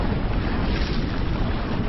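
Sea waves and wind on the coast at Odessa make a dense, steady roar with constant wind buffeting on the microphone. Loud and continuous, with no talk.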